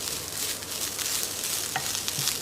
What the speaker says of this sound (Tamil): குறைஞ்ச தீயிலேயே மறுபடியும் ஒரு 30 செகண்ட் பரட்டி விட்டுடலாம்.